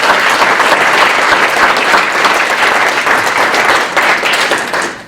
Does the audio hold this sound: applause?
yes